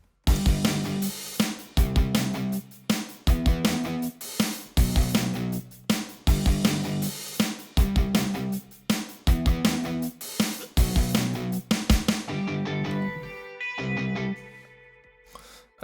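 A programmed pop punk drum beat from FL Studio pounds out steady punchy kick, snare and cymbal hits in a driving rhythm, thinning into a sparser buildup with sustained tones toward the end.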